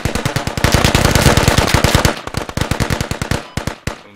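Rapid automatic gunfire in the shooter game Squad, a long loud burst of close shots in fast even rhythm, then more scattered, slightly uneven bursts continuing to the end, with no voices.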